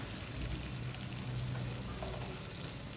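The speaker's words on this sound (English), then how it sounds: "I'll be putting my meat in the oil" Meat fries in hot oil, a dense, continuous sizzle held at a faint, even level throughout.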